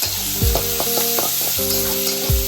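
Sliced onions browned in oil sizzle with crushed ginger and garlic for a fish-head chenchada, a steady broad frying hiss broken by several loud scrapes and clanks of a spoon against the pan.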